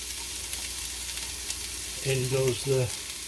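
Onions sauté in a pan for goulash with a faint, steady sizzle, and a voice briefly speaks near the end.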